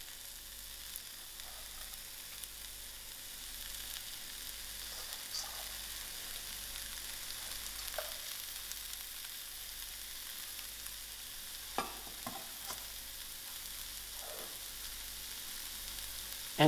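Cabbage and carrots fry in a pan with a soft, steady sizzle, broken by a few brief clatters and stirring scrapes near the middle and end, and nobody speaks.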